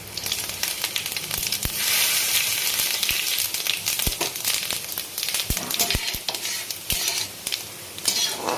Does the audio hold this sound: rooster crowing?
no